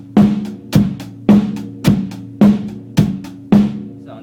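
A drum beat played on a kit in a drum lesson, with the bass drum, hi-hat and snare hitting in seven evenly spaced strokes, each a sharp, full hit with a short decay, close and alone with no talk.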